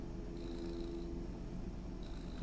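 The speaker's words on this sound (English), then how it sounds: "You might be able to hear him purring." A cat purrs steadily and close up, a continuous low rumbling that stays even throughout with no voices over it.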